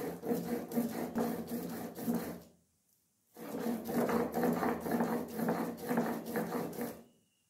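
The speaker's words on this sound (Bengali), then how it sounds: "বেশ মিহি করে পোস্তটাকে এভাবে আমি বেটে নিলাম।" Poppy seeds are ground fine on a flat grinding stone, giving a rhythmic back-and-forth gritty rubbing in quick, regular strokes, close by, broken by a short pause before the grinding resumes.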